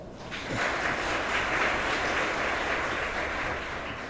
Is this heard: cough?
no